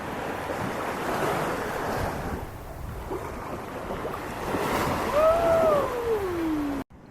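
Ocean waves wash onto a beach on Phu Quoc Island at sunset, a soft continuous rush of surf mixed with wind buffeting the microphone, with a brief whistling tone near the end and no talk.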